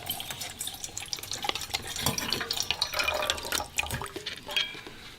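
Water from a freshly opened bottle is poured into a cup or pouch, a soft, close, continuous splashing trickle with small drips, fairly quiet throughout.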